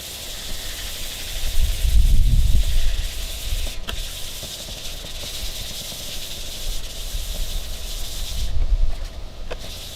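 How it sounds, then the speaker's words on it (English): A foggy car headlight is wet sanded by hand with 400 grit sandpaper, soft wet rubbing swishes in slow back-and-forth strokes, close and moderately loud, with a couple of faint clicks. "So I'm going to hit it with 400 wet sandpaper"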